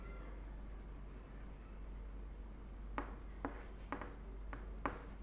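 Pen or marker strokes on a board during a maths lesson on congruent triangles, a few short distinct scratches near the end over a steady low room hum.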